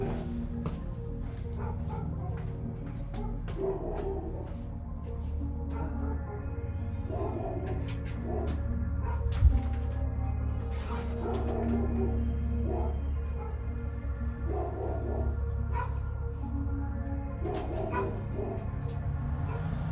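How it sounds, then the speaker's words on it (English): Two dogs trade barks back and forth, one the neighbour's, sounding from a home or garage where a race car is being repaired; the yaps and woofs come in scattered bursts over a steady low background hum, with no talk. "having a bark off with the next door dog"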